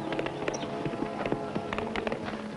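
Hooves of a riderless horse clip-clop in a quick, uneven rhythm at moderate distance, over a steady outdoor background.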